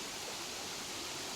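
A mountain stream runs through Visayas countryside farmland, a steady broadband rush of flowing water, close and even, with no voices over it.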